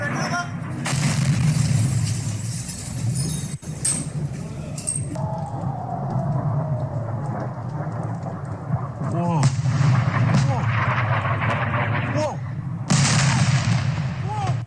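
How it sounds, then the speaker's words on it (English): Missiles striking and exploding, played back from a recording: repeated heavy booms and rumbling blasts over a continuous roar, with a startled voice exclaiming among them. "now they're being hit with missiles"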